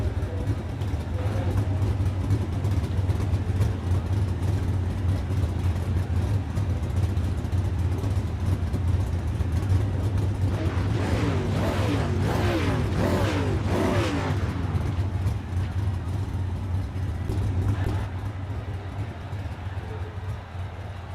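Late model race cars running on a dirt oval, a steady loud engine drone throughout with a rising, overlapping burst of cars passing in the middle, and a voice talking over it.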